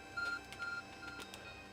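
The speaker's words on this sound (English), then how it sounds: "Your ARC phone is beeping." A few short electronic beeps from the Arc phone in the video game Pokémon Legends: Arceus, quiet and tonal, in a brief burst with a faint hum underneath.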